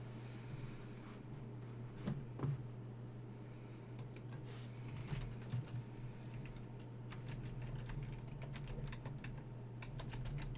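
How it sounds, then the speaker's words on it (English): Someone types on a computer keyboard in soft, uneven bursts of clicking keys, quiet and close over a steady low hum. "Typing the website out?"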